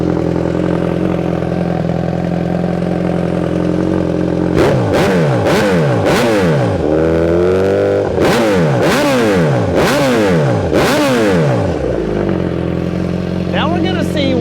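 A 2022 Suzuki GSX-S1000GT motorcycle engine idles loudly and close, then is blipped through a series of sharp revs that rise and fall repeatedly before settling back to a steady idle.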